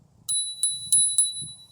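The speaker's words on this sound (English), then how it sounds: "you also have an integrated bell" The integrated bell on a Troxus T1 Pro electric scooter rings four times in quick succession. The dings are bright, clear and close, over a faint low hum.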